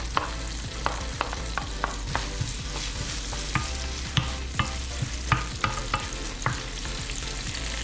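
Garlic, onion and scallion fry in olive oil for cornmeal dumplings with steamed cabbage, a steady close sizzle punctuated by regular sharp spoon clicks and scrapes against the pot, with no talking.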